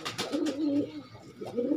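Pigeons coo repeatedly at a loft during a racing pigeon flight, several low rolling coos close by, with no talk.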